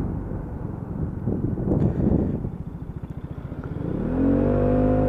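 Lexmoto Aura motorcycle on a customer test ride, its engine running steadily with a pulsing low throb, then revving up toward the end, with wind buffeting the microphone throughout.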